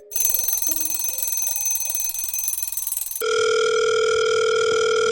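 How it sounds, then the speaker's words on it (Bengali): Ringing telephone on a call nobody picks up, a steady electronic ring tone that shifts pitch partway through, loud and continuous with no voices. "আমি যাকে ফোন করেই চলেছি,"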